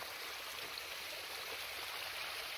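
Steady rushing of a flowing stream on Hiyama mountain in Tamura, Fukushima, Japan, continuous broadband water noise at moderate level with no voices, unbroken throughout.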